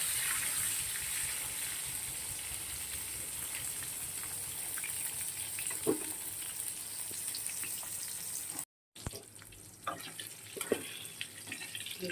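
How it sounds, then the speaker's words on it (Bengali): Eggplant frying in oil gives a steady, moderately quiet sizzle and hiss up close, with a few soft clatters and a brief cut partway through; no one speaks. "আর বেগুনটা ভাজবো।"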